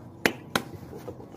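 A hand pats a clump of black turmeric rhizomes twice, two sharp, close slaps about a third of a second apart, followed by a softer, faint tap.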